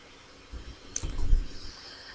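A computer mouse button is pressed to confirm a dialog in an Excel spreadsheet, producing one soft, close click over a faint low rumble, with no one talking.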